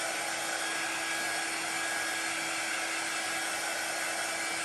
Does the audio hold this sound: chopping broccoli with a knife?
no